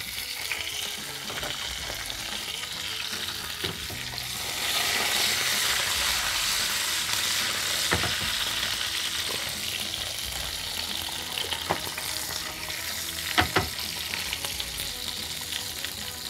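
Green chili, vadagam and curry leaves fry in hot oil as a tempering for Madurai fish kuzhambu, a dense, steady crackling sizzle that swells partway through, with a couple of sharp pops and no talking.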